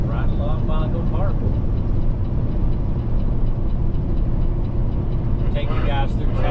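A Peterbilt 389 truck drives through town with a steady, loud engine rumble throughout, while a person talks over it in stretches.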